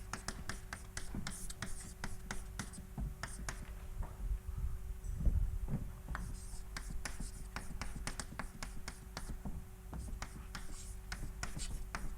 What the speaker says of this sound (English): Maybe I'll write down the equation.